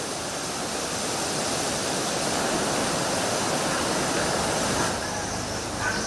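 Water gushes from a dam after its shutters are raised, a loud, steady, broadband roar of rushing torrent that holds constant throughout with no breaks.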